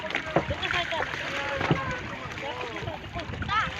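A small boat moving across water in the Philippines, with sloshing and engine or wind noise, while people talk in Tagalog over it throughout.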